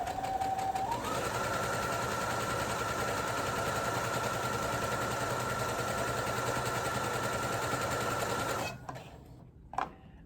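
An old Brother sewing machine runs steadily at speed with its pedal pressed by a forearm, a loud continuous motor whir that cuts off near the end, followed by a brief clunk.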